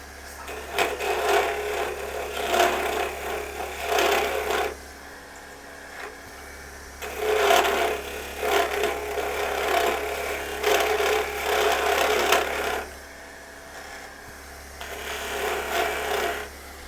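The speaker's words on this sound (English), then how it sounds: "this is a carbide scraper I'm using. Real handy for something like this." A carbide scraper cutting a mesquite wood bowl on a lathe, giving long, loud, rough scraping passes separated by brief pauses, over a steady low motor hum.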